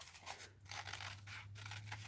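Scissors snip through paper to cut flower blooms, giving several quick, close, quiet crisp cuts in a short irregular series with no talk.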